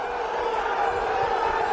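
Crowd at a Pro Wrestling League women's bout between Helen Maroulis and Pooja Dhanda, a steady roar of an arena audience cheering and shouting, broad and sustained, with a commentator's voice faintly mixed into the din.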